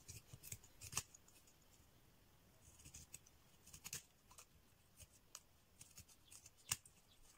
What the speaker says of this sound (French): je découpe à l'œil, mais j'arrive encore à découper assez droit